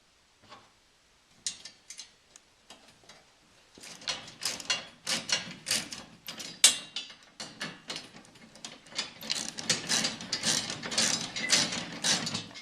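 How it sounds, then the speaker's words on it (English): Soft mechanical ticking and clicking, faint and close, comes from bolts being tightened on a Jeep JK Gen 2 side rack plate. Sparse at first, the clicks grow into a busier irregular patter. "I finished putting in the bolts on this side"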